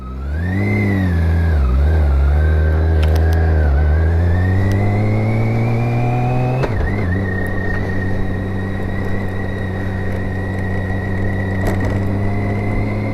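Motorcycle carrying two riders accelerating smoothly, a loud close engine drone rising steadily in pitch through the gears with one shift midway, then holding an even tone with wind noise.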